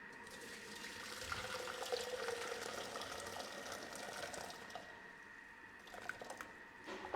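Hot water poured into a Thermomix mixing bowl in a kitchen, a steady faint trickle and splash lasting several seconds, with soft clatter near the end.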